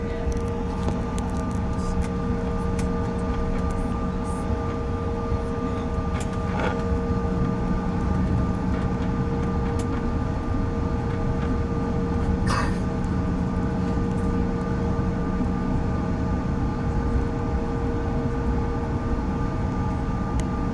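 Bombardier CRJ900 jet engines hum steadily from inside the cabin while taxiing to the runway at Atlanta, a continuous tonal drone with a few faint clicks and knocks.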